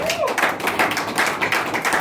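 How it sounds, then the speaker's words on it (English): A church congregation claps together during a sermon, a steady patter of hands through the whole stretch, fairly close and lively, with some voices mixed in. "Clap for yourself if you are lovely at home."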